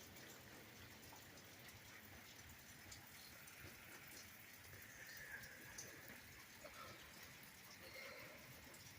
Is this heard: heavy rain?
yes